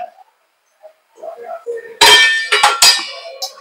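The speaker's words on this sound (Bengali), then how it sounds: "আমি আলুগুলো দিয়ে দিচ্ছি" Par-boiled potatoes are tipped into a cooking pan: a quiet voice murmurs first, then a sudden loud clatter and scrape follows, with a few sharper knocks close after.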